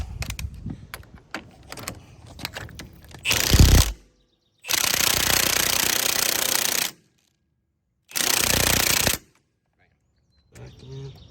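An impact wrench with a 170 ft-lb torque stick hammers a castle nut on a wheel bearing hub, in three loud rattling bursts separated by silence, after some clinks and handling noises.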